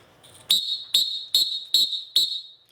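Five sharp, quick referee whistle blasts in an even rhythm, each a short piercing shrill burst with a brief tail, loud and close with no talking.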